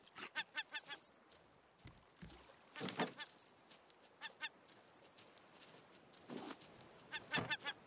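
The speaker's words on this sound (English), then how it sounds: "I hear the bird." Repeated honking bird calls from a goose-like seabird in the survival video game Raft, sounding in short bursts across the clip with brief splashy water noises between, with no talk over them.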